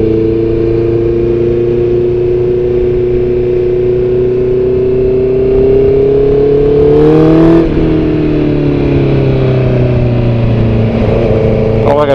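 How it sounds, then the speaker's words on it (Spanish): A 2019 Honda CB650R motorcycle engine revs steadily and loudly up close, its pitch climbing and then dropping back around the midpoint, a continuous harmonic drone with no other sounds over it. "¿Cómo suena la bestia torda, la Honda CB650R"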